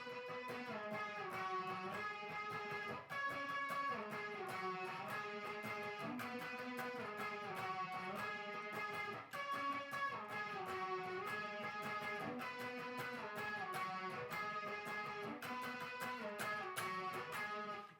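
Electric guitar played slowly in octaves with sliding shifts between positions; sustained, steady and close, a continuous sequence of sliding octave notes with no voice over it.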